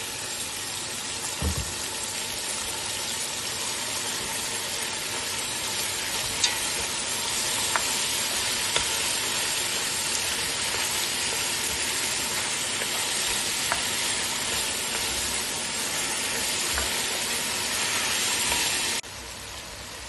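Meat and onions fry in a hot pan, a steady loud broadband sizzle running throughout with occasional stir clicks, cutting down near the end.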